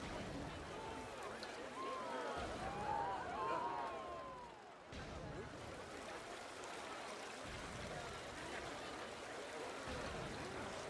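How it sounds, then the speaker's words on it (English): Gentle trickling, running water sounds in the Planet Coaster theme-park game, a soft continuous stream with a few brief higher squeaks early on, low in level throughout. "How is it making water noises?"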